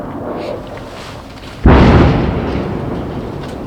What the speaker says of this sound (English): Oh, an aerial bomb.